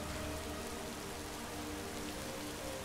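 Steady rain falls in the game Skyrim, a dense, even hiss of drops on surfaces that runs unbroken and alone throughout, with no voices.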